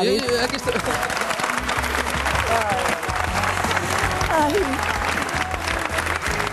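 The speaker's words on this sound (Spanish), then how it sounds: "Un aplauso para" A studio audience applauds on a Spanish television talk show, steady clapping throughout while voices talk and exclaim over it.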